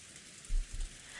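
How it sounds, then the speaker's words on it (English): Steady rain in the visual novel Umineko, an even hiss of falling drops filling the clip, with two soft low thumps near the middle and no voices. "the rain started earlier this time"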